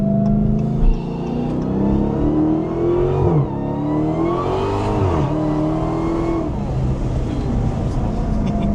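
A sports car engine revs up through several gears, pitch climbing and dropping with each shift, loud and close from inside the car.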